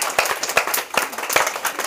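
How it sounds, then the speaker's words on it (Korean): Students in a classroom clap their hands in a brisk, uneven series of sharp claps, close and loud, with no talk over them. "박수 한번 치고 갈까? 박수 막 치러."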